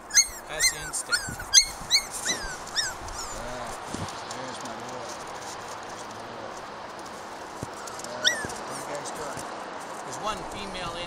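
Four-week-old Norwegian Elkhound puppies let out a run of thin, high yips and whimpers, loudest at the start and sparse later, over a constant background murmur of movement.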